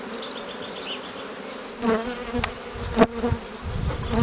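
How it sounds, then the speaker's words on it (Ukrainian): Honeybees buzz around an opened Ukrainian-Alpine hive during spring nest expansion, a dense close hum with sharper individual bees flying past the microphone and occasional handling knocks, no talk. "Бжілки сердити"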